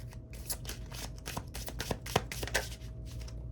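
A deck of tarot-style cards being shuffled by hand, a run of quick papery riffles and soft slaps close to the microphone with brief pauses between bursts.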